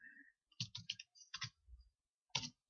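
Several sharp mouse clicks in OBS Studio, a quick cluster of three followed by two spaced single clicks, close and crisp against silence.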